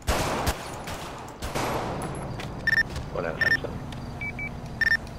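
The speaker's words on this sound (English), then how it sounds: "shots fired" Gunfire from GTA 5: two loud shots crack close up within the first second and a half, followed by beeping tones and background ambience.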